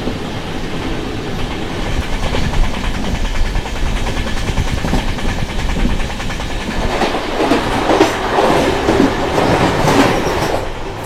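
Shivamogga Town HBC Jan Shatabdi Express passing close by on an adjacent track, a loud continuous rush of wagons with rhythmic clickety-clack and brief wheel squeal, swelling near the end.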